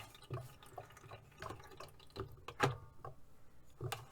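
Water splashing and dripping as the rinse water for a paint brush is changed at a crafting desk, with several short, irregular splashes and drips, the loudest near the middle, each standing alone against quiet room tone.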